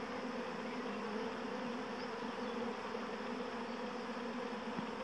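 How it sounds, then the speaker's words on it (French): A honeybee swarm pouring out of a hive, heard as a dense, steady buzzing hum of many bees, constant and moderately faint throughout. "regardez les abeilles sortent de la ruche"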